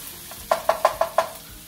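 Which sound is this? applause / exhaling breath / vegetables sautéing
vegetables sautéing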